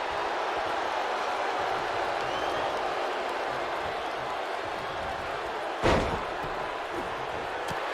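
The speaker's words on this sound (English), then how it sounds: "Listen to this crowd." A broad, steady roar of cheering from a wrestling arena crowd in the WWE 2K19 video game fills the scene, broken once by a single sharp slam.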